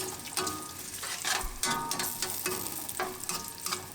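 Pancetta frying in oil in a pan, a steady close crackling sizzle with scattered sharp pops and spits, occasional stirring scrapes, no talking.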